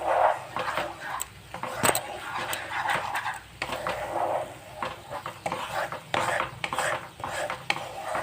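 Leftover dal is stirred and dried in a pot, with a metal spoon repeatedly scraping and clinking against the pot in irregular bursts over a low background hum.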